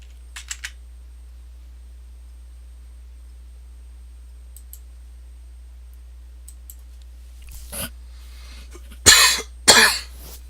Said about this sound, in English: Sorry, I'm coughing here.